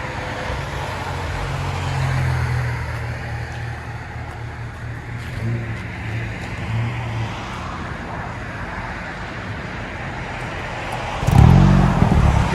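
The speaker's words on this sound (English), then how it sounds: "2020 Hyundai Veloster Special Edition. Let you guys hear it before." A stock 2020 Hyundai Veloster Special Edition with its resonator still fitted idles with a low, steady exhaust drone, swells in a mild rise, then gives a brief louder blip near the end.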